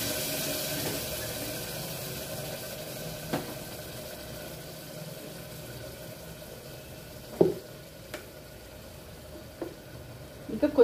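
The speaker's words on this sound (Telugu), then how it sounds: "ఇప్పుడు ఎసరు పోసుకోవాలి." Water pours steadily into a cooking pot in a home kitchen, a soft continuous stream with a few light clinks of utensils against the pot.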